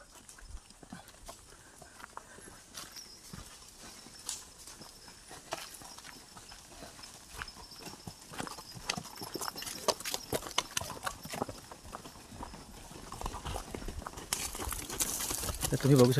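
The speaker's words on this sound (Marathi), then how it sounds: "पर्यटक बघा घोड्यांनी प्रवास करत आहेत." Tourists riding horses along a Matheran hill trail, hooves clip-clopping irregularly and growing closer and louder over the stretch, with faint birds and brief talk in the background.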